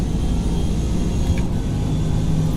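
Supercharged race car engine in Forza Motorsport, a steady loud low roar filling the whole stretch with no clear shifts or breaks.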